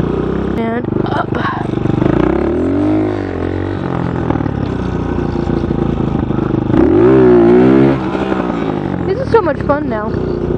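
A motorcycle revs while its rider practises wheelies and stoppies, the engine note rising and falling in repeated swells, loudest near the end, with a voice talking over much of it.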